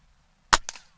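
A Gamo Hunter Extreme Pro .22 caliber air rifle fires one sharp, close crack, followed a split second later by a softer second report or impact, then quiet.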